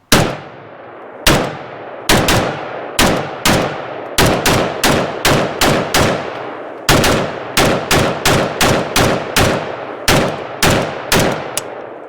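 Rapid semi-automatic rifle fire from a Serbian Zastava chambered in 7.62x39mm, shooting Polish Grom ammunition at an outdoor range: about fifteen loud, sharp shots in uneven bursts, each with a short ringing decay, no talking.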